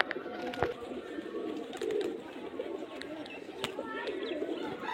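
Giribaz pigeons on a Murshidabad rooftop coo softly and repeatedly at close range, mixed with faint chirps, knocks and background hiss, while a person speaks quietly nearby.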